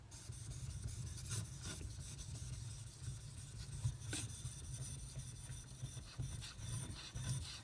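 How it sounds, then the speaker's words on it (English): A knife is sharpened on a Japanese natural whetstone with soft, close, repeated scraping strokes in an uneven rhythm over a low background hum, faint and without talk. "Oftentimes with these styles of knives, I see guys sharpen them"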